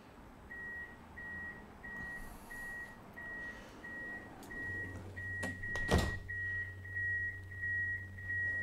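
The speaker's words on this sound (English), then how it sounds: "That's lots of beeping." In the TramSim video game, a reversing alarm beeps in a steady, evenly spaced series throughout, with a brief clatter and a low engine drone joining partway through.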